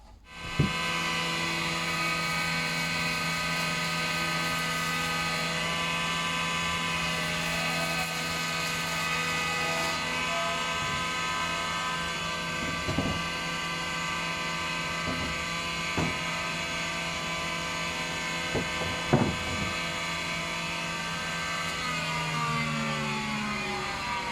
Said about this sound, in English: But first I'll run it over the jointer, just try and make one edge straight.